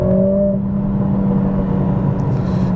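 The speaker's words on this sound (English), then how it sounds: "It just feels like actual engine sound, because it's the real sounds coming through." Loud, steady Mercedes-AMG CLA45 S engine rumble with exhaust drone, a low throbbing hum that holds constant throughout, with a brief higher whine near the start.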